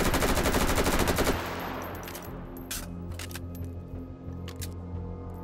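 Rapid unsuppressed automatic gunfire in the VR shooting game Hot Dogs, Horseshoes & Hand Grenades, a loud dense burst for over a second that stops abruptly, leaving reverberant tail and scattered clicks and clatter.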